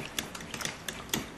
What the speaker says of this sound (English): we got a fork here to whisk this stuff up